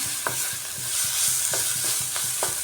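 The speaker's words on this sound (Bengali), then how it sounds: "শুধু জিরের গুঁড়া দিয়ে একটু সময় কষিয়ে নিচ্ছি" Egg curry masala with cumin powder being sautéed in a pan, with a soft steady sizzle and a few scrapes of stirring repeating at a quick, regular pace, close and alone.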